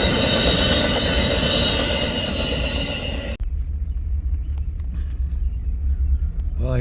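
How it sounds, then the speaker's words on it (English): The eastbound California Zephyr passenger train roars past loudly with dense rumbling and wheel noise, then cuts off abruptly to a quieter low rumble with faint clanks. "That is the eastbound California Zephyr."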